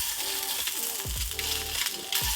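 Fish sizzles in a hot pan left on residual heat after the burner is turned off, a bright, continuous frying hiss with occasional soft scrapes and bumps, close up and without voices.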